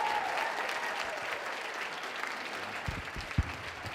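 Audience at a marketing bootcamp applauds to welcome a speaker, a steady wash of clapping that thins toward the end, followed by a few close thumps and a short voice.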